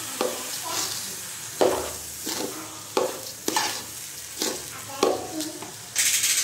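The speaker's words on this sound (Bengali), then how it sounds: "পুরো চালটা পাত্রে ঢেলে দিলাম। ভালো করে চালটা তুলে নিই।" Rice stirred in a large pot for white pilau, with repeated scraping strokes of a spoon against the pot in an uneven rhythm over a low sizzle, close and fairly loud, no talking.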